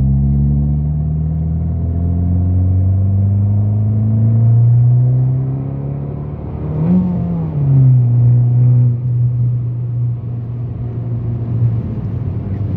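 An Abarth 595 hatchback accelerates hard from a standstill toward 100 km/h, its engine note droning and climbing steadily, easing briefly at a gear change, then pulling again, loud and close throughout.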